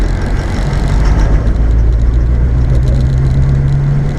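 A 1966 Ford Mustang with a 289 engine drives along in gear, its loud, steady, low engine drone filling the cabin without a break.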